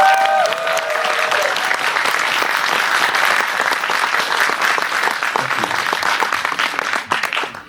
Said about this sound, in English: Please give my actors a big round of applause